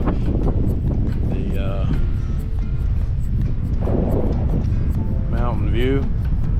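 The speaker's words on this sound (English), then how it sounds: "You can hear the wind." Wind buffets a Blue Ridge Parkway mountain viewpoint near the highest point of the road, making a steady, loud low rumble against the microphone while a person speaks over it.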